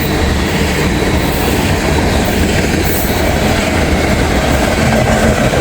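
A freight train rolling past close beside the track: a steady, loud rumble of wagons with wheel clatter that holds for the whole stretch.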